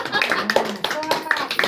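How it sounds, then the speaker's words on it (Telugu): A short burst of hand clapping from several people at a child's third birthday party, lively and close, with voices chattering over it. "Wow clap."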